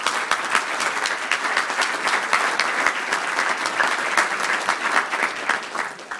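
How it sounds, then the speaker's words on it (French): Audience at a Paris conference clapping steadily, a dense, even burst of many hands applauding throughout the clip with no voice above it. "Thierry Salentin, que je vous demande d'applaudir"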